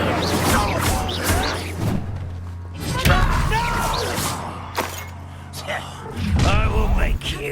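An Incendio fire spell cast during Hogwarts Legacy combat bursts out in heavy thuds and whooshing blasts, loud and close, mixed with voices speaking.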